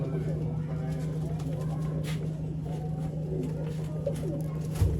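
A breeder pair of pure Sialkoti pigeons coo softly and repeatedly, close by, over a steady low background hum.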